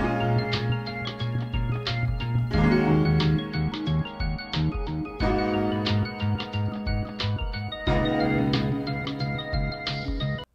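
Synth arpeggio track playing through a Rompler instrument with nonlinear reverb and delay, rapid plucked repeating notes over sustained low tones, with chord shifts every few seconds, clear and continuous without voices.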